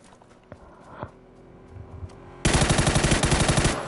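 Rapid automatic gunfire from the video game PUBG bursts in loudly after scattered single shots and thuds, a fast even rattle of close shots continuing to the end.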